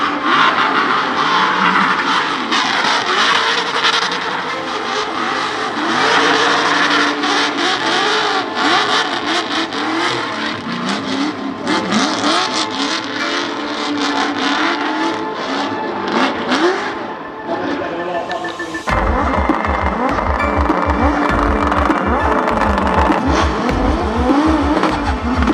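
Race car engines bark and rev hard, one after another, at a rev-off event, loud and close with rising and falling whines, then a rougher, deeper engine takes over near the end.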